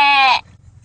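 A human voice imitates a sheep's bleat, one short nasal wavering cry, close and loud, followed by near silence.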